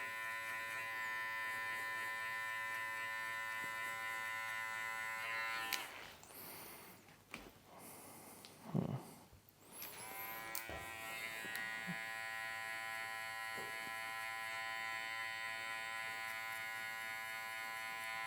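An electric hair clipper buzzes steadily while cutting a burst fade mullet, its hum briefly broken mid-way by rustling handling noises before the even drone resumes, close and alone without talk.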